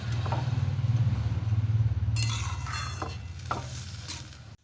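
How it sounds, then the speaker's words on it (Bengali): Boiled dal mixed and stirred with spices in a kadai, a steady low simmering bubble with soft scraping strokes of a spoon against the pan, close and continuous with no talking. "এইবার সেদ্ধ করা ডালটা কড়াইয়ের মধ্যে দিয়ে দেব ডালটা দিয়ে মশলার সঙ্গে খুব ভালো করে মিশিয়ে নিতে হবে"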